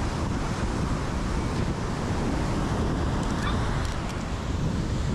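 Surf rolling in at the boulevard seafront of Amlan City, Negros Oriental, heard as an unbroken loud rush blended with strong wind buffeting the microphone.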